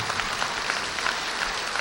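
An auditorium audience applauds in steady, dense clapping, a moderately close crowd sound that holds evenly throughout with no speech over it.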